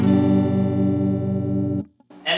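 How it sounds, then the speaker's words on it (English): A Fender Frontman guitar amplifier drones with a loud, steady, buzzing hum full of harmonics. It cuts off after nearly two seconds, followed by a short, brighter noise. "As you hopefully are able to hear via the recording here, it's currently humming."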